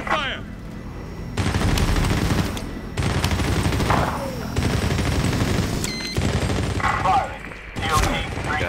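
Covering gunfire in the video game Medal of Honor Warfighter arrives as loud, sustained automatic bursts in several blocks, separated by short gaps, with a few sharper cracks and booms standing out.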